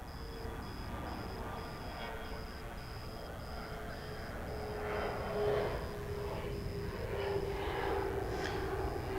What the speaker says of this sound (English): There's another 757 UPS you just saw there that came in a short time ago from San Bernardino, California.